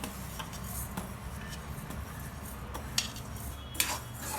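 Sesame seeds roast in a pan while being stirred, producing faint, scattered scraping and light clinks of a spoon against the metal over a soft background hiss, with a couple of sharper taps.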